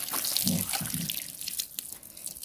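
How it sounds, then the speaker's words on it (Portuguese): A little water splashes and drips onto young pepper seedlings in a rural vegetable garden, a short close trickle with soft droplet patter fading out. "Ó, jogar um pouquinho de água aqui também."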